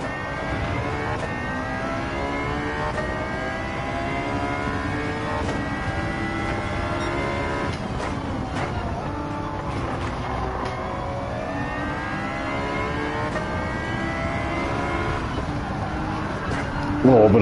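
Car engine revving through a short-geared, many-speed gearbox in Gran Turismo 7, a steady sustained drone with rising harmonic sweeps as it climbs through gears, loud and continuous under speech.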